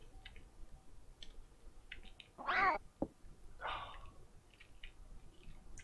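A cat meows in the 1995 video game Clock Tower, one clear drawn-out meow followed by a softer second cry, with a sharp tick between and quiet ambient clicks around them.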